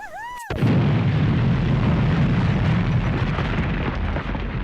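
A bomb explosion blows an item to pieces in The Sims 3: a short rising electronic tone, then a sudden loud blast that becomes a sustained roaring rumble and debris wash, alone without talk.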